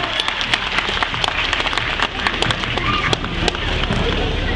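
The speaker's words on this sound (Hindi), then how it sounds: "जब भी आप ताली बजाते हो" A large audience of children claps continuously at a gathering in Kathmandu, a dense, crackling wash of applause that stays loud and steady throughout.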